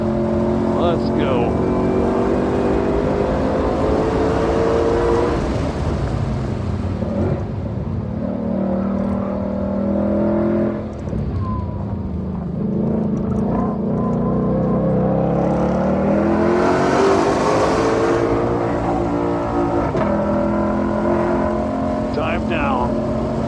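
A Shelby GT500 accelerates on the Ozarks International Raceway track; its engine note climbs and falls in loud, sustained sweeps heard from inside the car, with a voice talking over it at times.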